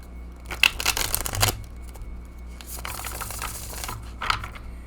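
Stiff, thick non-laminated horror-themed tarot cards being shuffled, two bursts of rapid riffling clatter separated by a pause, then a softer third shuffle and a final brief flutter, close and fairly quiet.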